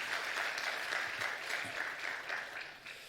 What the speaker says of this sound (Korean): 우리 한번 성가대 격려하는 마음으로 힘차게 박수 한번 드리겠습니다